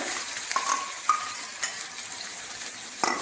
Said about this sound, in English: I'll just give it a lightly stir